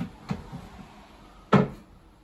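A lower cabinet door in the galley of a homemade teardrop camper thuds shut twice, a soft knock followed by a louder, sharper bang about a second later, close up in a quiet space.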